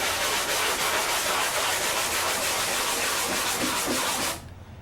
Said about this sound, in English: The trick to sanding this is do not press down hard on the sandpaper